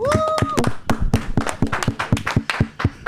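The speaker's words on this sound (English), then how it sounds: "Clap it up for both of them." A small podcast audience claps in quick, sharp individual claps at a steady rhythm, close and fairly loud, with a short whistle-like tone at the start.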